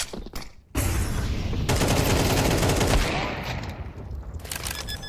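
Rapid automatic gunfire from a Counter-Strike match in a competitive esports game, loud sustained bursts filling most of the clip after a brief opening pop, with mechanical clatter and no voices.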